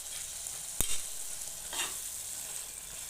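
Onion, ginger and garlic frying in a pan at home, a faint steady sizzle with two brief sharp stirring clatters, quiet and close.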